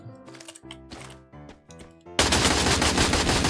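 Automatic weapon fire in a Free Fire battle royale match: rapid bursts of shots in quick succession, then a sudden sustained loud barrage that keeps going to the end, with no talk over it.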